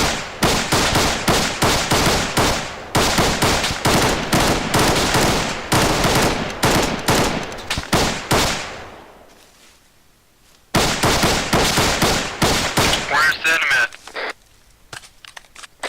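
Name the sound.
gunfire, people taking fire from the southwest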